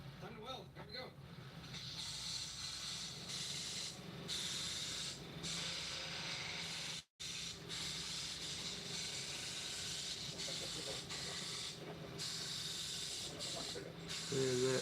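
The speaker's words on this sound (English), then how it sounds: "Time to weld." Welding gives off a steady, close crackling hiss with fine sputtering that carries on throughout, broken only by a momentary cut near the middle.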